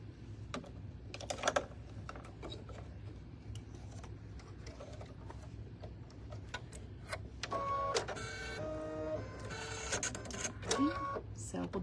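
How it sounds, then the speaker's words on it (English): An embroidery machine stitches a final pink outline around a vinyl applique design, giving a steady mechanical whirr with rapid needle clicks and bursts of tapping that grow denser toward the end. "So we'll do our final outline stitching here."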